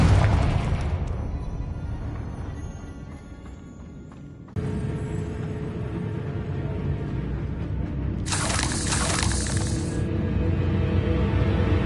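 In Hogwarts Legacy, the Confringo blasting spell goes off as a loud close explosion with a rumbling decay, followed by a sharp cut, lingering rumble and a brief bright crackling burst near the end.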